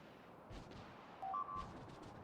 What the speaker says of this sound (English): Nuclear cannon primed.